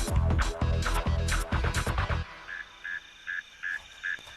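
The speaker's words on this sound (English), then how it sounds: "The mysterious MC at number 5 in the countdown is the mole cricket." A burrowing mole cricket calls from its soil tunnel with short, evenly spaced buzzing chirps that begin after a burst of other loud sounds and repeat steadily, clear and fairly close.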